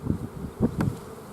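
Bees buzz close by, a low droning hum that swells and fades in short surges with no voices.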